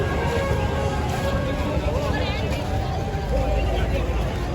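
Crowd ambience at the Sangrasi fair in Punjab, a dense, continuous outdoor babble of many voices with loud music or announcements mixed in, under someone speaking close by.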